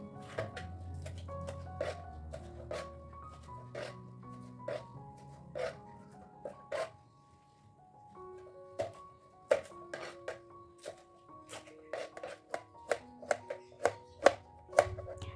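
A knife chops thinly through carrots on a cutting board in a home kitchen, making a steady run of crisp, close taps with a brief pause partway, no talking.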